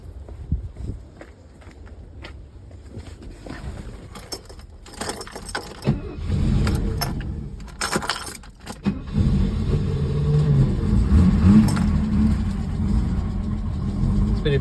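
A 1968 Mercedes-Benz 230 with a Zenith 35/40 INAT carburetor is handled with key jingles and footsteps, then the engine cranks, fires and settles into a loud, steady close-up idle.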